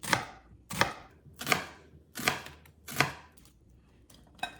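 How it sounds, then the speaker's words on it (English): A knife slices a carrot and cuts an onion on a board, making six loud, evenly spaced chops roughly every three quarters of a second, followed by a fainter final cut, with no talking. "Peel the carrot and slice it thinly. Cut the onion into wedges."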